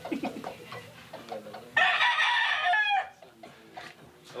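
A fighting rooster in the Philippines lets out one loud, close crow lasting over a second, with softer clucks and people talking quietly before and after.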